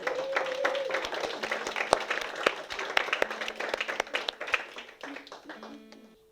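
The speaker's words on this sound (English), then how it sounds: "So let's give him a round of applause." Scattered audience clapping at a community coffee house concert, thinning out over several seconds while a voice and a few tonal notes sound through the sparse claps.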